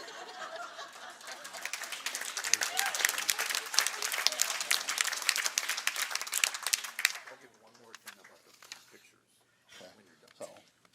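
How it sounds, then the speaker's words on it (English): Audience at the St. Louis Park Athletic Hall of Fame ceremony gives a sustained round of applause in a hall, which fades after about seven seconds, leaving sparse claps and murmuring voices. "if we can give them one more round of applause"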